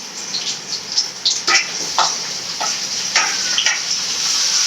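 Onions and tomato frying in a pan for sambar, a steady bright sizzle with occasional scraping stirs of a spoon, close and loud.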